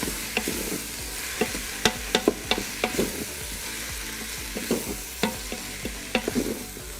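Garlic, about two cloves, sizzles in an Instant Pot as a utensil stirs it, with sharp scraping clicks against the pot scattered over a steady frying hiss, close and fairly loud.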